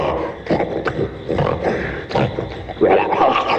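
A cartoon bear growls and roars loudly in bursts, rough guttural snarls with short pauses between them, close and alone.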